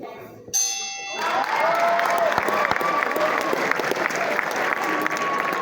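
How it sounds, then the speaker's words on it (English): An audience applauds people on a stage, loud sustained clapping from a crowd that breaks in suddenly after a brief ringing tone and keeps going, with a voice briefly audible through it. "Clap for everybody on the stage."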